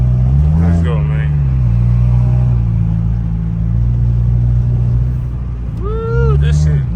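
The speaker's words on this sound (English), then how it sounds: "let me just put this car on a little drive" A Honda Integra Type R engine drones steadily during a late-night drive, a loud, low, continuous rumble with slight shifts in pitch, while someone talks over it.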